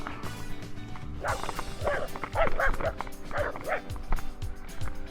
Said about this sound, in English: We're going to have some barking any second because there's a lorry coming.